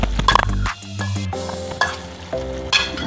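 Shallow-fried okra tipped into a masala in a pan for masala bhindi curry, giving a burst of sizzling frying with stirring clatter that rises and falls over a few seconds, close and fairly loud, no talking.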